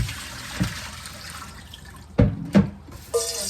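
Water drains from fish pieces in a kitchen sink for a Guyanese fish curry: a low trickle, then a few distinct splashes and clunks close by, with no one speaking.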